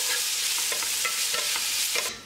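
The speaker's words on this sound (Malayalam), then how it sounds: "സവാള നന്നായിട്ട് വഴറ്റി കൊടുക്കാം." Sliced onions with salt sautéed and stirred in a pan for Kerala beef biryani: steady loud sizzling with repeated scraping stirs, close and alone.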